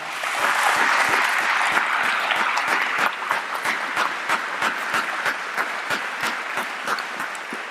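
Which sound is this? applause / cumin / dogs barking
applause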